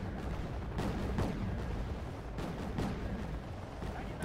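Gunfire from units in the Wargame Red Dragon video game, a series of muffled booming shots and bursts over a constant rumble, fairly faint and spread unevenly across the moment.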